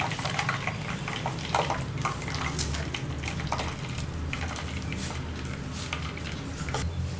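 Grated coconut squeezed by hand to press out coconut milk for idiyappam, giving a continuous wet, splashing liquid sound with small squelches, steady and close throughout.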